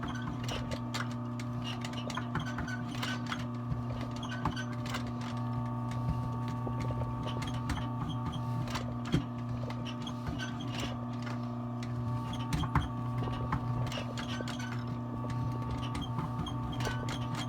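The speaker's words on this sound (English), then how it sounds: "Now this machine is not really made for stitching really heavy leathers, but we're gonna make an attempt at it." A sewing machine slowly stitching heavy leather on a Gucci bag under restoration, a steady close ticking run of needle strokes over a constant mechanical hum, with no talk.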